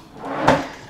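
A desk drawer in a modern hotel room slides open or shut once, a short woody rumble peaking mid-clip against a quiet room background.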